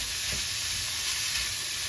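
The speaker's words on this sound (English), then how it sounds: "We're going to add our pork loin" Fully cooked sliced smoked pork loin hitting a hot pan for pork fried rice, giving a steady, loud broadband sizzle that holds evenly throughout with no voices.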